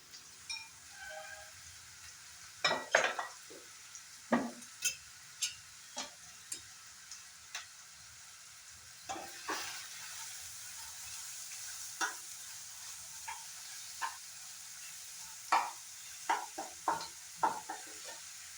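Onions with a pinch of salt frying in a pan for dry rajma, quiet sizzling under repeated sharp scrapes and knocks of a spoon stirring, coming in irregular bursts.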